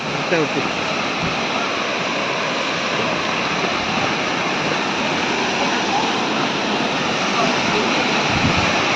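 A waterfall at Gaganbawda ghat roars as a loud, dense, unbroken wash of rushing water, with some wind buffeting the microphone.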